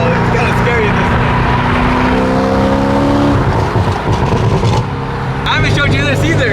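A loud cammed Corvette Z06 roars close by, its engine holding a steady drone, then revving up in a rising pitch near the end, with someone talking over it.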